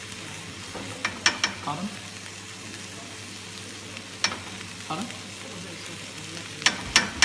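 Ground beef frying in a pan with water released from the meat, a soft steady sizzle with scattered clicks and scrapes of stirring, while a voice briefly speaks.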